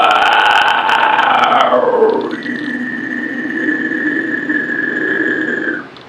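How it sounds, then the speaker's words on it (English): A person performs an inhale scream vocal technique, a loud raspy drawn-in screech that drops in pitch, then shifts to a thinner sustained whistling tone before cutting off. "that is the basic premise of how to really get started with an inhale scream"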